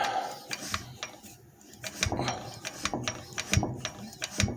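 Repeated metallic clicks and knocks from an antique General Engine Co. Model D engine as it is nudged to free a stuck intake valve, with irregular mechanical clatter close up.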